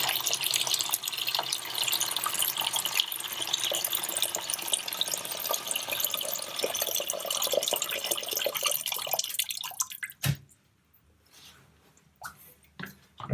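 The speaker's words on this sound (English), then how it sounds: "You can see it's draining out that hole now" Water rushing out of a toilet tank through the open valve hole, a steady loud gushing and gurgling for about ten seconds that stops abruptly, followed by scattered drips and clunks.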